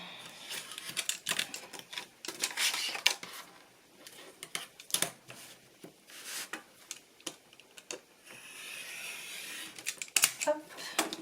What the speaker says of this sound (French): Je coupe les bords, tout le tour.